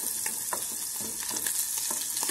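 Bacon fries and toasts in a pan alongside greens, giving a steady, dense sizzle with soft rhythmic stirring scrapes, close and continuous without speech.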